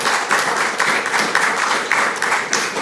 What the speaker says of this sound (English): Let's make a big applause to Marit.